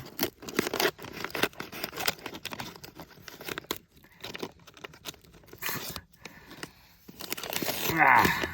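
Close crinkling and tearing of a Zatarain's jambalaya mix box with one-handed scissors, irregular bursts of rustling and crunching, ending in a louder rip, at a woodland campsite.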